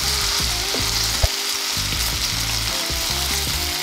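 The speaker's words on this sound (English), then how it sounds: "I'm going to cook tofu for about a couple minutes, and then I'm going to take it out of the pan" Tofu pieces for a vegan pad thai fry in a pan with a loud, continuous close-up sizzle, punctuated by low thumps and clattering as the pan or utensils move; no one speaks.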